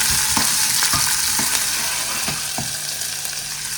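Onion, chilli and mustard seeds fry in a small pan with a steady, loud sizzle, and a spoon scrapes through them in regular strokes, each one a short clatter rising above the hiss.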